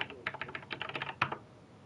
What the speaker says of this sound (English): I love this keyboard. It's so loud.